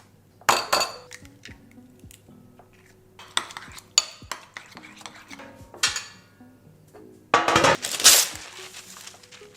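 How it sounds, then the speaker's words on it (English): Cottage cheese and egg white stirred together in a bowl, with repeated close clinks and scrapes of a utensil against the dish in uneven bursts, growing busier toward the end. "And then we have to mix that with 1 egg white."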